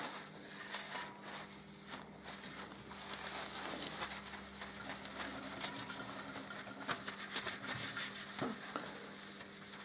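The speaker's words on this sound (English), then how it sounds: "Wipe this bit of oil off this pipe" A cloth rubbing oil off the exhaust pipe of a Harley-Davidson Deuce motorcycle, a soft continuous scrubbing and rustling close by, quiet and steady for several seconds without talk.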